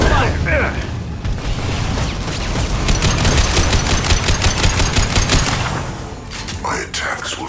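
Heavy combat in Mass Effect 2, loud and near, with rapid automatic weapon bursts, sharp cracks and booming explosions packed densely together while voices speak over the firefight.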